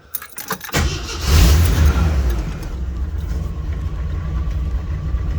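A Jeep CJ7 with a 4-speed is cranked and fires up after the gas pedal is pumped, with a few quick clicks, a brief starter whir, then a loud surging rev settling into a steady rumbling idle close by.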